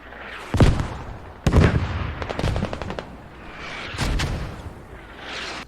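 Mortar rounds and gunfire boom in a video game match, several sharp, loud blasts with rattling bursts between them and a rumbling tail after each impact.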